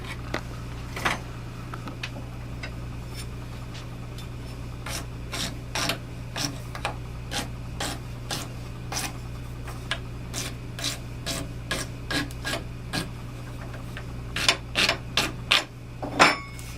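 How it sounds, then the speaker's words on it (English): Rough edges inside a cane tube are filed in a series of quick rasping strokes. The strokes come in a fairly regular rhythm over a constant low hum and grow louder toward the end. "we're filing off any rough edges on the inside"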